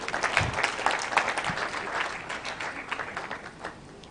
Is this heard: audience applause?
yes